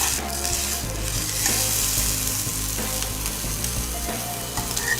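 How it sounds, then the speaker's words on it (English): A boneless ribeye steak sears in a hot pan, a loud, constant close sizzle with a crackling hiss and a few faint scrapes over a low hum. Nobody speaks. "So we're going to sear up our boneless ribeye here."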